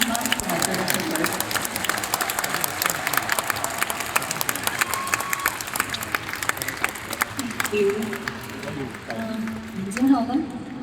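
An audience claps at a concert in Hong Kong, a dense, sustained round of applause heard at a distance while a voice speaks over it.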